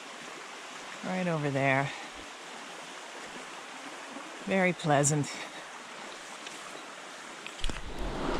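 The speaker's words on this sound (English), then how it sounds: "we're running right next to, I think it's the east branch of the Pemigewasset" A river stream, the east branch of the Pemigewasset in the wilderness, flows with a steady broadband rush nearby while a person briefly speaks over it.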